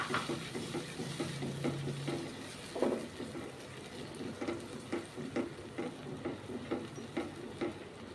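Food for chole paneer frying in oil gives a soft, steady sizzle with rhythmic stirring scrapes and light ticks, fairly quiet and close.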